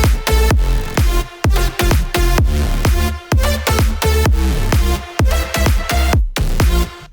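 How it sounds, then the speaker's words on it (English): An electronic music drop layers a bass, a lead synth and drums into a loud, dense, pumping loop, with punchy kicks driving a steady rhythm throughout and no voices. "So with the bass and the lead and the drums that I've shown you so far, the drop sounds like this."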